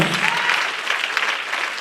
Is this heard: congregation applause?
yes